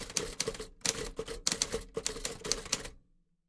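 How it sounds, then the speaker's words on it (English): Rapid typewriter keystrokes from a video game scene, loud and close, arriving in dense bursts with short gaps between them before stopping abruptly near the end, with no voices. "Why is this typing sound so fucking loud?"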